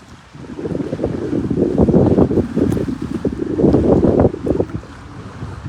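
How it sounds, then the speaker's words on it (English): Strong wind buffets the microphone outdoors on the shore of Weiss Lake, making a loud, steady rumble that swells and fades over several seconds. "It's windy out here today."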